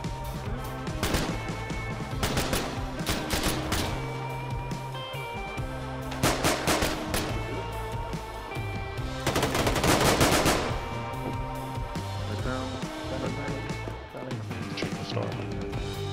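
Video game combat with dense gunfire, machine gun bursts and single shots, loud and continuous over a busy background of other game sounds, near and far.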